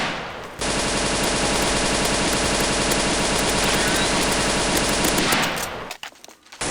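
A zombie escape map in a shooter game, ze_sky_temples, fills with loud, continuous rapid gunfire from many weapons at once, a dense sustained barrage that cuts off abruptly near the end.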